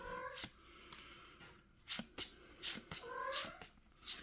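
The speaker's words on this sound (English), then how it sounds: "My cat has also come to say hello." A house cat meowing repeatedly nearby, a run of short, loud, wavering meows in quick succession that stand clearly above a quiet room background.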